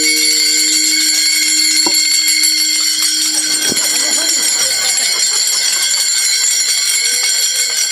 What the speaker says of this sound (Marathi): थांबा टाळ टाळ.